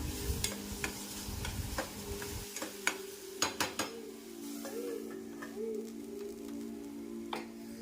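Aloo curry gets stirred in a pan with garlic paste, making scattered scrapes and clinks of a spoon against the pan over a soft sizzle. Faint bird chirps sound in the background.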